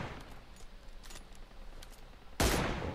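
A gunshot in PUBG Mobile rings out loud and sharp near the end during aim practice, after a stretch of faint clicks and rustling.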